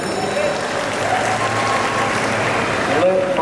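Applause from an audience at a movie audio launch event after a teaser screening, dense clapping heard close with a voice speaking over it.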